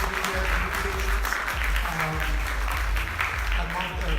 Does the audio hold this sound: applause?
yes